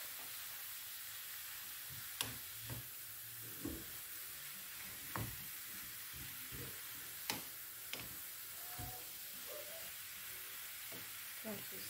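Minced meat and vegetables cook quietly in a pan, giving a soft, steady sizzle broken by scattered clicks and taps of stirring.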